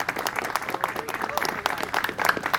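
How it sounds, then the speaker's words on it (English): Applause from a crowd at an outdoor street-safety demonstration, a moderate scatter of clapping hands at middle distance, with voices mixed in. "Can we give them a round of applause?"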